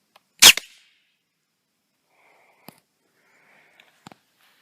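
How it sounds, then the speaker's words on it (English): A homemade air rifle fires a homemade dart with one sharp, loud pop, followed by a few faint distant clicks and taps, with no talking. "Homemade dart, same pressure, same distance. Firing in 3,"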